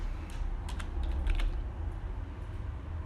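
Someone types a command on a computer keyboard, with light close key clicks in a quick irregular burst, then a steadier background hum.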